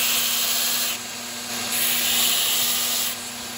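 A blacksmith hammer face is ground against an abrasive, a steady loud rasping hiss that drops and resumes in short passes, with no talking.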